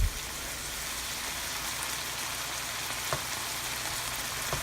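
A pot of water at a steady rolling boil beside turkey meat browning in a pan, giving a continuous loud bubbling, sizzling hiss with no voices.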